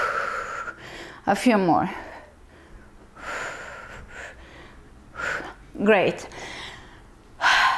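Heavy, audible breaths during a yoga balance pose in a fitness flow class, a few strong gasping inhales and exhales close to the mic, with an instructor speaking briefly between them.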